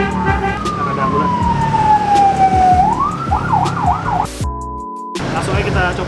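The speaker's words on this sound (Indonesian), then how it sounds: "Ada ambulan." An ambulance siren wails past on a street near a Betawi nasi uduk stall, a loud sweeping tone shifting into a rapid yelp before cutting off abruptly.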